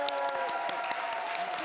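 Scattered applause in a city council budget hearing room, light and fairly faint, with crowd murmur and some voice-like tones mixed in over the short stretch.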